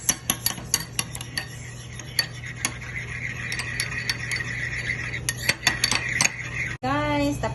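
A utensil stirs a dip of mayonnaise, hot sauce and lemon, scraping and clinking against the dish in quick, irregular taps, with a steady low hum underneath and a brief squeaky sound at the end.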